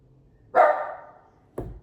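A single sharp dog bark rings out at a moderate distance, followed a second later by a shorter, muffled second bark.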